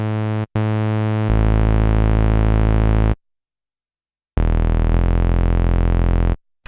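A loud, buzzy analog synthesizer bass tone on an Elektron Analog Four holds steady, briefly stops, shifts to a fuller, deeper sound as a sub oscillator is added, goes silent, then returns thick and sustained.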